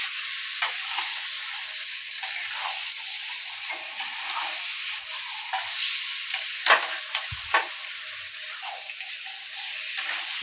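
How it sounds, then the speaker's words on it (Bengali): Chicken being sautéed in a pan for Bengali chicken kosha, with a steady bright sizzle throughout and occasional soft stirring scrapes, fairly quiet and even. "এরকম এবার চিকেনটাকে ভালো করে কষাতে হবে"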